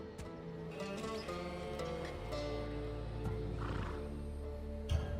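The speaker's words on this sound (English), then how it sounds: "Little do you know that this is Hades' horse." A horse in Assassin's Creed Valhalla lets out a clear neigh with some hoof clip-clop, set against a steady bed of in-game music and ambience.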